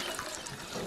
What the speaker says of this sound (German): Guck mal, hier ist Wasser. Oh. Mal gerade was trinken.